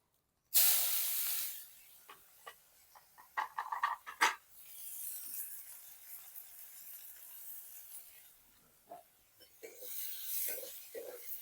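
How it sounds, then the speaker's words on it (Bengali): Finely chopped onion hits hot oil already seasoned with bay leaf, dried chilli, cumin and garam masala for a katla fish kalia, setting off a sudden loud sizzling hiss that settles into steady frying with scraping stirs. "এবারে দিয়ে দিচ্ছি মিহি করে কুচিয়ে রাখা পেঁয়াজ"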